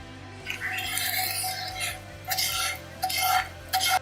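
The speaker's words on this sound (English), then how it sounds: "We mash the onions into the potatoes." Potatoes being mashed with sauteed onions and melted butter in a mixing bowl, giving soft scraping and squishing strokes in short bursts, close and alone with no talk.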